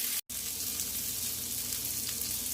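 Burger buns toast on a hot griddle with a steady, close frying sizzle that continues throughout, broken only by a brief dropout near the start.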